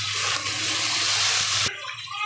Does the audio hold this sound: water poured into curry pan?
yes